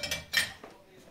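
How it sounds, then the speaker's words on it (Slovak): In a kitchen where bean soup is being cooked, a metal spoon is set down with a couple of sharp clinks against a dish or pot, close and brief, followed by quiet. "Lyžicu odlož."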